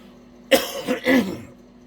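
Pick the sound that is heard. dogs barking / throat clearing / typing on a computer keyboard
throat clearing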